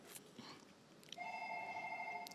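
A telephone rings with a steady electronic tone that starts about halfway through and continues to the end. It is moderately loud, with no talk over it.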